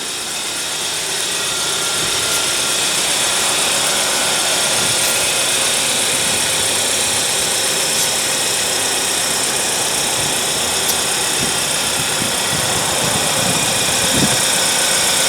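2015 Hyundai Tucson with a 2.4 L four-cylinder engine idling steadily with the hood up, a continuous even hum with broad hiss on top and no talking.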